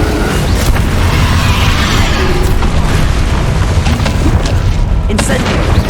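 Flipendo blast spell in the Hogwarts Legacy video game, a dense, booming, continuous roar of magic impacts and rumbling effects, loud and close, with a few sharper cracks near the end.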